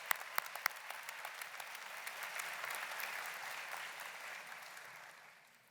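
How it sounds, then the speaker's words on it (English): Audience applause for faculty at a university commencement ceremony, a steady distant wash of clapping with a few sharp nearer claps at the start, fading out at the end. "Please give our faculty, our leaders, a round of applause."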